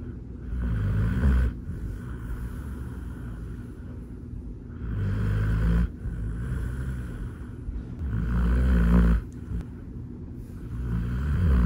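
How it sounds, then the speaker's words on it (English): A tired Bernese mountain dog snores in a bed after a vet visit, with long, rumbling breaths rising and falling in slow cycles, close and fairly loud with no talking. "of him just snoring in our bed"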